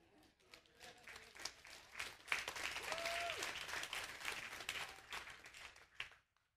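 Church congregation applauding together, a steady wash of hand claps that swells and holds for several seconds, then fades out.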